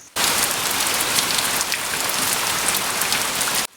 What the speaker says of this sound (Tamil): மழையும் அன்னைக்கு ராத்திரி ரொம்ப பெய்ய ஆரம்பிச்சது